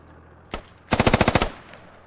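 A heavy machine gun in a video game fires one sharp shot, then a rapid burst of about eight evenly spaced rounds, loud and close, with no voices.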